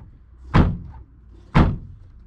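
The door of a 1996 Nissan 240SX under rebuild shuts twice with loud, close, solid thunks about a second apart, with no talking.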